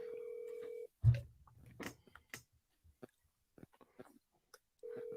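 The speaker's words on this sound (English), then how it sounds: "he's just calling a bunch of different numbers" A telephone sounds a steady tone that cuts off, then a string of short dialing tones and clicks as numbers are entered on the handset, before the tone returns.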